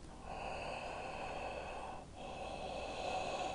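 Loud, hoarse breath drawn through a constricted throat with the mouth open, a raspy Darth Vader-like pranayama hiss that runs steadily, dips briefly, then continues close up.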